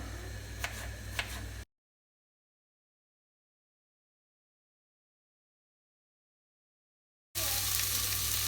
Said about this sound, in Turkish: E, şimdi birazcık yüksek ateşte soteleyeceğim